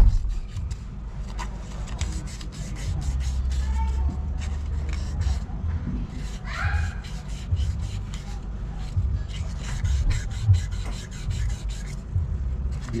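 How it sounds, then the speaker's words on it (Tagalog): Sandpaper rubs a plastic pipe reducer clean for a water filter installation, a close rasping scrape in uneven strokes, while people talk quietly nearby. "Lihain muna natin para malinis"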